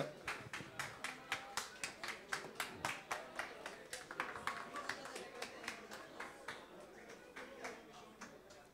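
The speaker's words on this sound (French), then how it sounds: "un tonnerre d'applaudissements pour Cédric" Audience at a student talent session gives rhythmic, evenly spaced clapping in unison, a steady beat of claps at moderate distance, slowly softening toward the end.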